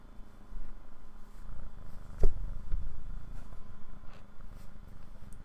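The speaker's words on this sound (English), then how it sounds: "Listen out for the purring." A cat purrs close up in a soft, steady rhythmic rumble, with one brief louder bump partway through.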